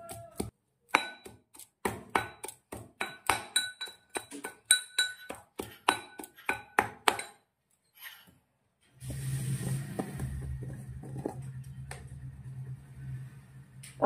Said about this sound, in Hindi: ये गार्लिक डाल रही है, उसको भी अच्छे से पहले दरदरा कूटेंगे